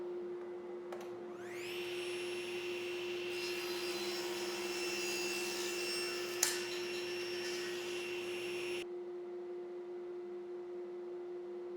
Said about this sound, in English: just rotate the part 90 degrees and I can cut the taper on the other side